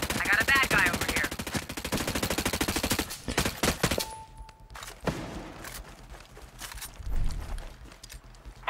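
Rapid bursts of automatic enemy gunfire in the Ghost Recon Breakpoint video game: a dense, loud stream of shots at first, then scattered single cracks and thuds that grow more distant.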